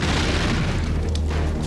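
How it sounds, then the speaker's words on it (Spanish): An explosion set off by a cigarette igniting gasoline fumes in a small apartment: a loud, dense, sustained boom with heavy low rumble filling the whole moment, no talking. "su cigarrillo causó una explosión"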